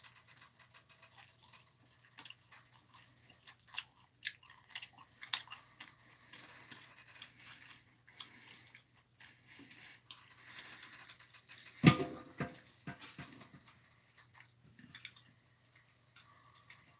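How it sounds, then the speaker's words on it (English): Close, quiet chewing of food, with soft irregular crunching and mouth sounds through a steady faint hum, plus one sharper louder bite or clatter partway through, and no talking. "Oh, that was way too much chewing."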